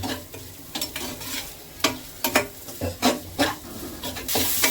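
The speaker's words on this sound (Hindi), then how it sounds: "हल्की सी सौटे हो गई है प्याज।" Onion and garlic sautéing in a little oil in a home kitchen, with short bursts of sizzle and a few sharper scrapes of stirring against the pan, close and clear with no voices.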